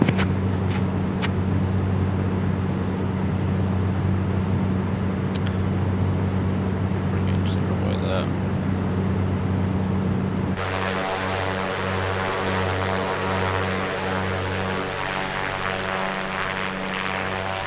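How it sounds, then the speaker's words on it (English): Steady propeller engine drone of an A2A Comanche aircraft in a flight simulator, a loud continuous hum that shifts abruptly to a changed, throttled-down tone partway through and keeps droning to the end, with no talking. "I'm going to throttle down a bit now."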